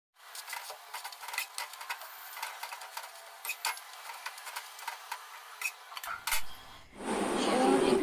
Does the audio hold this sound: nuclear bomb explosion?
no